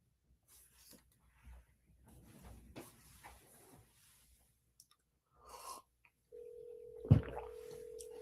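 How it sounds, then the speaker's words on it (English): A landline telephone call is dialed, with faint handling sounds and brief tones, then a steady ringback tone starts near the end, fairly quiet and uninterrupted. "I'm going to try and call his landline"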